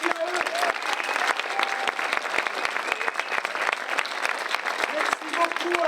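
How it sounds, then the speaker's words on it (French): An indoor audience at an adult street-theatre show claps steadily for the sound and light crew, a dense, sustained round of applause close by, with a voice speaking faintly underneath. "Un tonnerre d'applaudissements aussi pour Xavier et Pierre à la régie."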